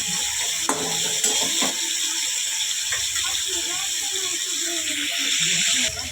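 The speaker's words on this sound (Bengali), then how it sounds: "এটা আমি হালকা করে এখন চিংড়ি মাছটাকে ভেজে তুলে নেব আমি" Prawns sizzling in a frying pan with Kashmiri chili powder, a steady close hiss running throughout with a few sharp crackles and pops on top.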